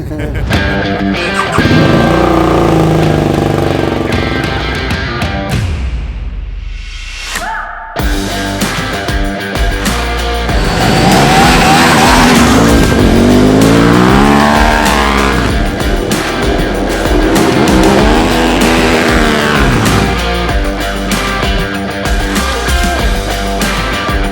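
A KTM 950 Rally motorcycle engine rumbles, cuts out briefly, then roars back to life and revs up and down repeatedly, close by in a paddock, with voices mixed in.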